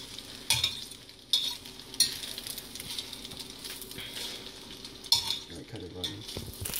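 Noodles being stirred in melted butter in a pan, with soft scraping and light sizzling throughout, punctuated by a few sharper utensil knocks against the pan.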